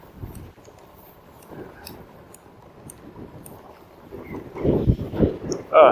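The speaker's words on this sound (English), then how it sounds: "It's windy, but the sun came out" Wind buffets the microphone near a bridge in low rumbling gusts, growing stronger and louder toward the end.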